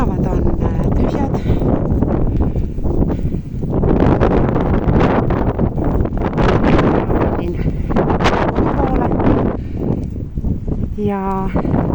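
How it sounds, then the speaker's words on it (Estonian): Wind buffets outdoors while snow drifts along an empty street, the gusts rumbling steadily against the microphone as a person talks over the blustery noise. "siin tuiskab päris ilusti ja on tuul"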